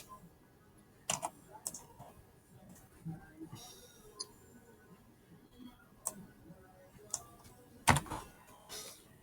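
Quiet, scattered clicks of typing on a computer keyboard, a few sharper key taps standing out over a faint background, with pauses between short runs of keystrokes.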